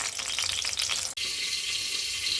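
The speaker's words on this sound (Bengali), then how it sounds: "একবার বেগুন ভাজা হয়ে গিয়েছে নামিয়ে নিলাম আর আরেকবারটা বসিয়ে দিলাম" Brinjal slices fry in hot oil in a pan, a loud steady sizzling hiss that cuts out for an instant midway, then resumes as strong as before.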